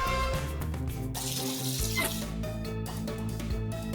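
Water rushes and sprays steadily in a homemade shower prank aimed at a neighbour, a loud continuous hiss with splashing that runs throughout under background music.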